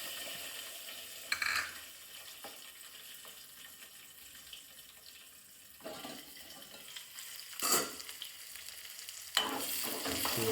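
Green chillies fry in hot oil with crackling mustard seeds and cumin, a soft steady sizzle broken by several louder bursts and clatters of stirring, growing louder toward the end.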